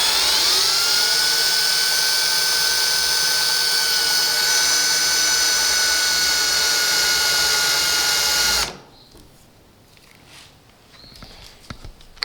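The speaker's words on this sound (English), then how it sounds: "you're only going to drill down just about, a 1/16 of an inch or so will do" A power drill bores a small pilot hole about 1/16 inch deep into metal, running as a steady loud whine for about eight seconds before stopping abruptly, leaving faint quiet handling noises.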